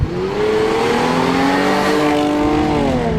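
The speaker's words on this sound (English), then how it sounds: "The thing is screaming all the time. This V6 works hard." Supercharged V6 in a Jaguar F-Type sports car revving hard, a loud close engine howl whose pitch climbs and sweeps steadily through the rev range with no talking.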